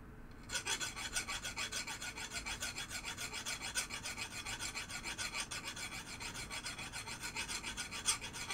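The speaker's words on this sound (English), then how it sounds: "As you can see how I'm filing it, I want to make a bevel." A fine metal file working the end of a coil stop from a 1973 Williams pinball machine, a close steady rasping in fast, even back-and-forth strokes that runs continuously.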